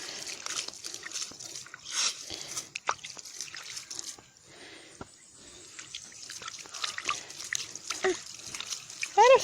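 Water is scooped and bailed out of a dug well hole, with drips, trickles and small splashes coming close and irregularly while people talk over and between them.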